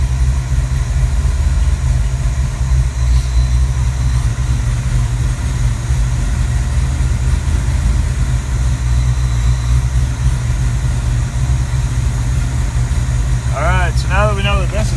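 A Cleveland V8 idles through homemade headers and exhaust, a loud, steady low rumble that holds even throughout, with a brief chirp near the end.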